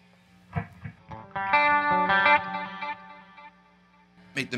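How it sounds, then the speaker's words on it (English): Electric guitar through a Line 6 Helix with chorus and reverb plays a few picked notes and then a sustained chord that fades into a reverberant tail, followed by a brief final strum. "And let's add a reverb."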